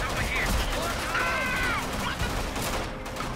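Gunfire in Left 4 Dead comes as rapid overlapping bursts of shots, with game sounds and voice chatter mixed in over the steady clatter.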